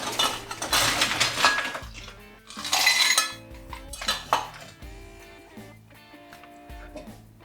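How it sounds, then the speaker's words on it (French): Ice cubes drop into a glass while a beetroot pickle cocktail is made. Several close, bright clinks and rattles come in bursts, then fade to a few lighter taps. "On remet un peu de glace dans le verre."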